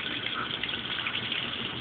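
Water gushes steadily into a Brastemp Baby Mondial washing machine filling for its first rinse, a continuous loud rushing flow with no pauses and no voices.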